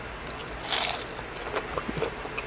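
Crunchy bites into panko-fried shrimp dipped in spicy mayo, a few close crisp crunches and chewing sounds over faint background noise.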